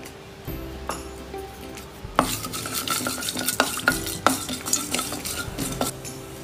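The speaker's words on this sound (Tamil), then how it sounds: "இப்போ பேனில் எண்ணெய் சூடாயிருச்சுங்க. கடுகு முழுந்தும் போட்டுருங்க, கூடவே வெந்தயம் போட்டுருங்க." Mustard seeds, urad dal and fenugreek dropped into hot oil in a pan for a Chettinad tomato chutney, starting as a soft sizzle and building into steady frying with sharp seed pops and crackles.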